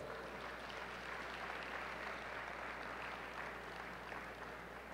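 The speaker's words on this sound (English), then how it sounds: "So you need to give yourself a round of applause." An audience at an opening ceremony applauds itself, a broad, continuous round of clapping from a large crowd, even and sustained throughout, heard somewhat distantly with a low steady hum underneath and no talking.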